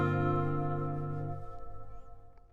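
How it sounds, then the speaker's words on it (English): An acoustic guitar chord rings through a generic hall reverb effect from a ToneWoodAmp2 unit, fading into a long, smooth reverberant tail over about two seconds, quiet and alone. "a pretty generic hall reverb that sounds something like this"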